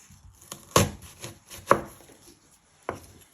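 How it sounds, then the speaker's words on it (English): A knife chops through an onion on a cutting board in four or five separate sharp knocks spaced unevenly, close and clear with quiet gaps between. "Then you're going to chop your other end off."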